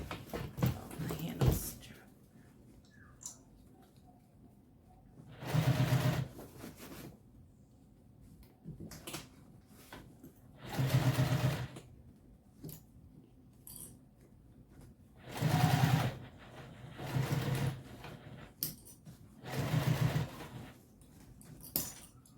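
Sewing machine back stitching along the edge of a Boronia Bowler bag, five short whirring bursts of stitching separated by quieter handling and rustling.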